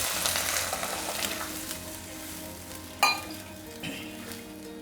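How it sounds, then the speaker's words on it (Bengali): Water poured into a pan of sizzling Bengali fish curry with potato and bottle gourd shoots, a steady loud frying hiss that breaks with a sharp splash and bubbling burst partway through, close up, with no voices. "ঝোলের জন্য জলটা দেব।"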